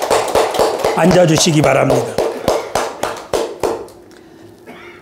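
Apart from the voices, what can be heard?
congregation applauding in church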